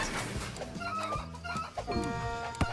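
Chickens in a video game cluck in a busy, close cluster of short, repeated calls, overlapping one another without letup across the moment.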